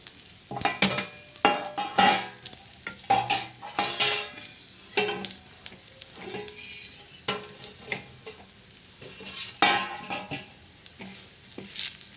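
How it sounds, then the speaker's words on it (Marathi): Coconut and black masala spices are stirred and dry-roasted in a pan for a village-style mutton masala, with repeated scraping strokes and a light sizzle, close and steady with no talking. "चांगला असा परतवायचा कोरडी बी चांगलं भाजायचं असं चांगलं परतून घ्यायचं"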